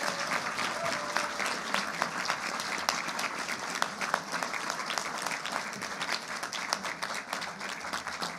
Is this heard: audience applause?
yes